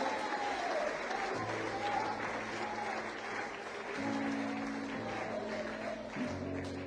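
A church congregation applauding during a Spanish-language sermon, a sustained wash of many hands clapping at moderate distance, with musical tones and a faint voice underneath.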